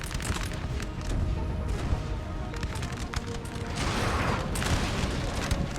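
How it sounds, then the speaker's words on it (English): Napoleon: Total War artillery, with 12-pounder and 6-pounder cannons firing on a house, heard as a dense, continuous rumble of distant booms and crackling gunfire, with no voices. "got 3 12-pounders, 3 6-pounders, and 2 more 6-pounders firing on the house here"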